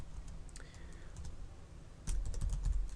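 Steady clicking of keys on a computer keyboard while PHP code is being written, with a brief pause and then a faster, heavier run of keystrokes near the end, close and without speech.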